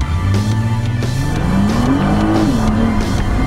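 A 2014 Nissan GT-R accelerates hard with a loud, close engine roar. Its pitch climbs steadily through the gears, with brief dips at the shifts and a constant rush of road and wind noise.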